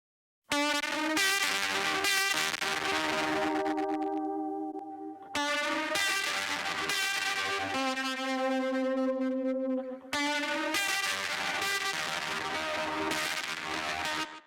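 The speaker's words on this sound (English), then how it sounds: "So that's kind of one of the main guitars." Electric guitar track played dry without delay, sustained distorted chords ringing out in long sections separated by brief gaps, loud and alone.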